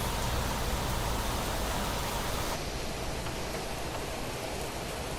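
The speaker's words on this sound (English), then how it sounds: "that rain is loud" Loud rain pours in the Planet Crafter video game, a dense, steady broadband hiss that fills the whole stretch without pause and with no voices over it.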